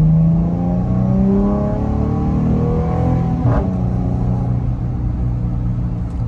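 A car with a 3.6L V6 Pentastar engine revs up and holds a loud, rising drone near the listener, with a brief burst of extra roar midway and no talk.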